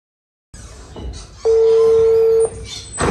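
A single steady telephone tone sounds for about a second against faint background noise, with no voices.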